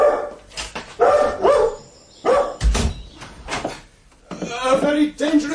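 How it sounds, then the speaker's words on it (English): A large, fierce dog in a Victorian period audio drama barks several times, deep and close, between stretches of spoken dialogue. "A very dangerous dog, that, Miss Keeldar."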